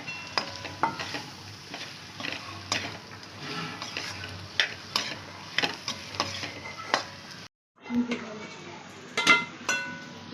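Onion, tomato and roasted coconut masala sautéed in oil for a coconut-roasted chicken dish, with regular clinking, scraping spoon strokes over a soft sizzle. A brief silent gap falls near the end, and a voice is faintly heard.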